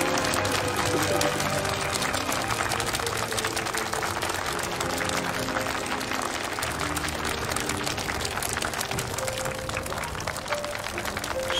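Sustained applause from a crowd at an engagement ceremony welcomes the groom's entrance, steady and dense for the whole stretch, mixed with tonal background music and occasional voices.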